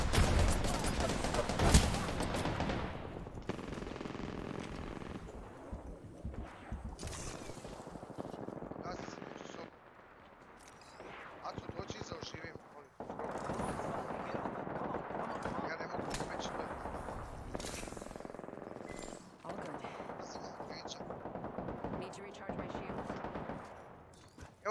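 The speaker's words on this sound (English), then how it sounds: "Ne mogu, sjebalo me bombardovanje." Artillery bombardment in the Apex Legends video game: repeated heavy blasts and gunfire crackle across the scene, loud and close at first then continuing in bursts, with voices talking over it.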